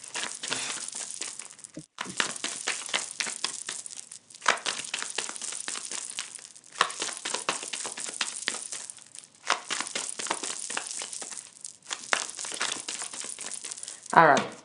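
A deck of tarot cards is shuffled over and over, producing long stretches of close, dense riffling and flicking broken by brief pauses as the cards spill out in clumps.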